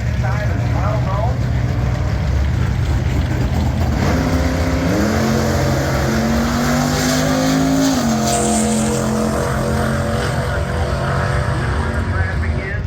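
Drag race cars at a Mopar AMC festival roar loudly down the strip, engine pitch climbing and shifting over a steady wash of crowd and track noise, with an announcer's voice talking over the action.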